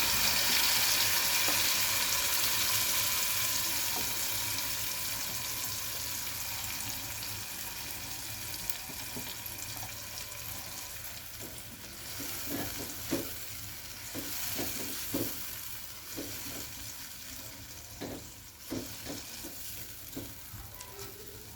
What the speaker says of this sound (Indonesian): Kita tumis bumbunya sampai tanak ya, supaya nanti tidak berbau langu.